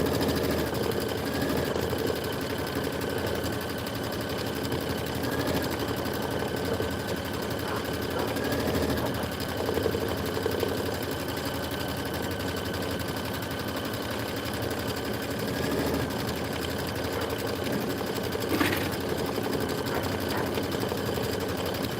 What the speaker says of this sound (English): It's just doing a straight stitch right now. And then the embroidery arm is moving it.